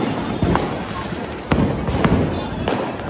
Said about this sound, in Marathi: मैदानामध्ये फटाके फुटत आहेत